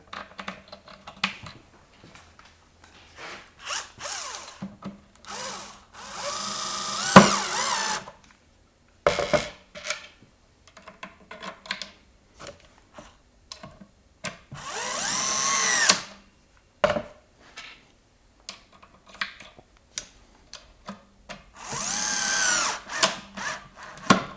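Power drill driving screws into a cabinet fitting while a Blum Aventos HK-S lift mechanism is mounted, heard as several short whirring bursts between quieter handling clicks and rustles, close and loud.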